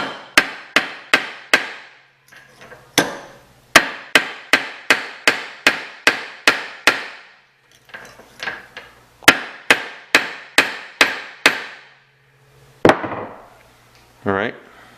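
A hammer strikes an AC compressor clutch part from a Subaru Impreza or Forester of 2008 to 2010. The sharp, close metallic whacks come in fast, regular runs of about five to eight blows, separated by short pauses.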